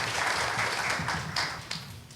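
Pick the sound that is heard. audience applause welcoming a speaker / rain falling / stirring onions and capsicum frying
audience applause welcoming a speaker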